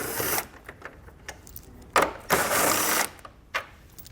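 Several 10mm head screws being backed out along a car's edge with a power tool, short whirring bursts of varying length separated by pauses, close and fairly loud with no talk.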